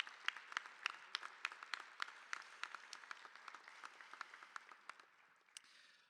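A commencement audience claps for several seconds, the individual handclaps distinct and fairly crisp but fairly faint and distant, thinning out and fading near the end.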